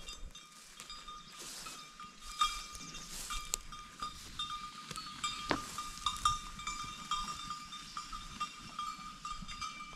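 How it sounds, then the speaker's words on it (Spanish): A herd of cows being driven down a hillside on a ranch, heard as continuous outdoor livestock noise with bell-like tones and scattered hoof and movement sounds at a moderate distance. "Ahí va todo el puño de vacas."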